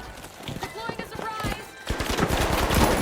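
Rapid gunfire rattles in the shooter game THE FINALS, bursts of close shots crackling through the clip and thickening toward the end, with a player talking over the action.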